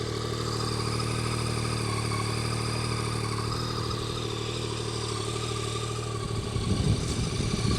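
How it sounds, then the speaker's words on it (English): A warm 2022 Yamaha MT-09 triple sits in neutral, idling steadily with a continuous low rumble and mechanical clatter, with a throttle blip building near the end. "What I want to do for you quickly is just give you a live startup as well, so you can hear it."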